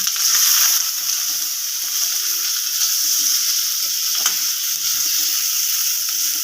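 Chopped onions fry in hot oil in a pan with a bright, steady sizzle. A brief stirring scrape breaks in partway through.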